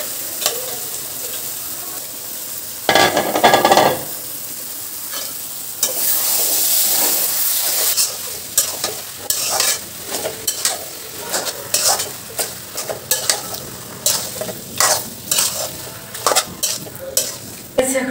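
Spices and chilies fry in oil for an olive pickle, a steady sizzle broken by repeated scraping stirs of a utensil against the pan.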